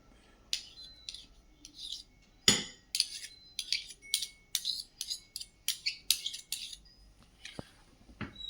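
Metal spoon clinking against a bowl while mixing Alphonso mango with condensed milk, a string of sharp, light taps at an irregular pace, close and clear with no talking.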